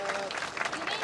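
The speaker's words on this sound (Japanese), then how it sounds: "どうぞ今一度大きな拍手でお願いをいたします。" A crowd at an outdoor Liberal Democratic Party street election speech in Shin-Yurigaoka applauds, a short, dense burst of many hands clapping that stays loud and steady from start to finish.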